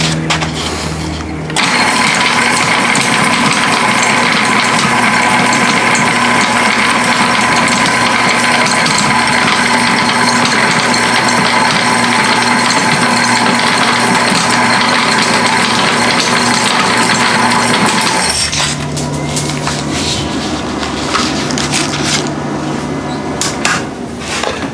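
A grain mill grinding corn: a loud, continuous mechanical grinding and rattling runs for most of the clip, then shifts to a lower, rougher churn near the end.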